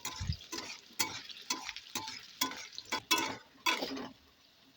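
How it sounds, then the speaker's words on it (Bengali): Cut potatoes frying in oil over tempered spices for a vegetarian bottle-gourd greens dish, with repeated sharp stirring scrapes and clatter in a steady rhythm over a soft sizzle, close by. "এবার ওর মধ্যে কেটে রাখা আলুগুলো দিয়ে দিচ্ছি। দিয়ে আলুটা হালকা করে একটু ভেজে নেব।"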